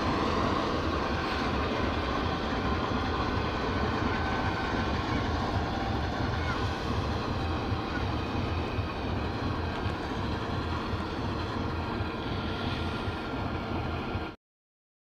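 A GE U40 diesel locomotive, number 9006, idling on a goods train waiting at a station, a loud, steady low rumbling drone with dense throbbing texture that cuts off abruptly at the end.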